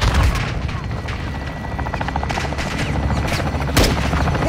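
Helicopter gunfire and explosions striking a building during a Call of Duty: Modern Warfare 2 mission, with a steady rotor drone, dense bursts of shots and booms, and a sharp heavy blast near the end, loud and continuous under radio-style voices.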